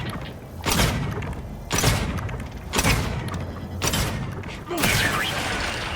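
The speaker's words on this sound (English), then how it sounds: "Let's throw a grenade and a second grenade." Grenade explosions in the video game The Outer Worlds 2: a series of five heavy, booming thuds about a second apart, each with a sharp onset and a lingering rumbling tail.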